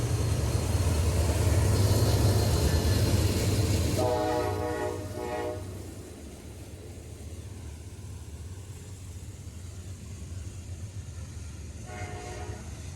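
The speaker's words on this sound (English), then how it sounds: "This train was NS-28X, eastbound stack train, going toward Croxton, New Jersey." A Norfolk Southern eastbound double-stack freight train, NS-28X, rumbles past at close range with heavy low-end roar, then fades into a steady rolling hum while several horn blasts sound over it.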